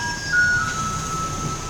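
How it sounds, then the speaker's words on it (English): A Taiwanese garbage truck plays its ice-cream-truck style melody on a street, a bright electronic tune heard steadily over low traffic rumble. "The trash trucks are famous in Taiwan because they sound like ice cream trucks."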